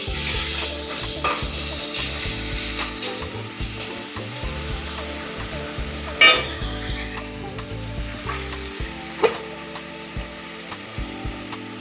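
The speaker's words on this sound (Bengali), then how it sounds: "এরপরে এক চামচ নুন দেওয়া হলো দিয়ে আবার একটু কষানো হচ্ছে" Mutton curry sautéing in mustard oil with salt makes a loud, continuous sizzle and fry close up, broken by repeated scraping and clattering strokes of a spoon stirring the pan, with a couple of sharper knocks.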